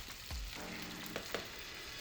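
Beef straight from the freezer frying in a pan gives a steady close sizzle, with a couple of brief clinks and stirring sounds breaking through.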